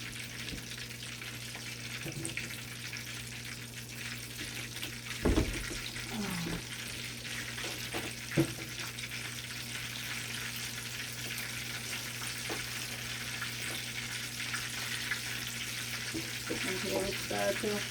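Floured food frying in a pan, a steady broadband sizzle running throughout at moderate level, with a few brief louder knocks and clatters from the pan along the way.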